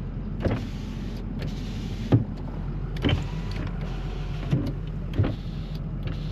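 Power windows on a 2004 Ford Excursion XLT 6.0L Powerstroke diesel whir up and down in several short motor runs, each ending with a soft thunk, close by inside the cabin over a low steady hum.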